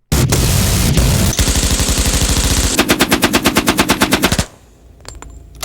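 Loud, sustained automatic gunfire fires in rapid bursts, the rhythm shifting partway through, then stops abruptly and leaves faint background noise.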